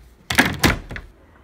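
A wooden cabinet door made from reclaimed furniture is shut indoors, giving two quick knocking thuds and a lighter rattle, close by, with no talk.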